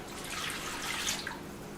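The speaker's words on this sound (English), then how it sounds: "we're going to pour, this is 2 cups of water." Two cups of water poured into a hot skillet holding softened smothered pork chops, giving a steady, close splashing hiss with a brief bubbling surge near the end.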